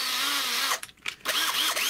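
An electric drill with an 8mm bit bores through FR4 G10 laminate sheet, giving a loud, steady high-pitched whine that drops out briefly in the middle and then resumes with a rising, grinding squeal.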